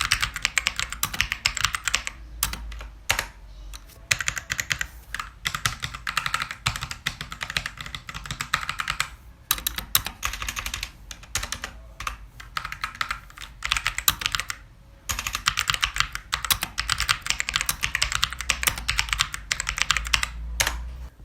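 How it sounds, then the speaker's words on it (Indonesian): Steady, fast typing on a Rexus mechanical keyboard with brown switches, a close run of clicky keystrokes with brief pauses, and no talking. "Dan berikut typing test dari keyboard Rexus tipe Brown Swiss ini."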